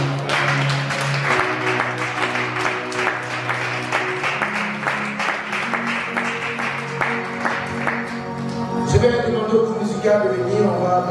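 A church congregation breaks into sustained rhythmic applause and acclamation for the Lord, with clapping in a steady beat, voices rising throughout and music joining near the end.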